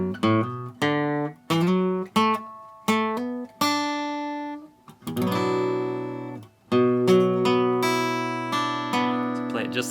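A slow acoustic guitar riff of plucked single notes and short chord strums, separated by brief pauses, then ringing strummed chords toward the end.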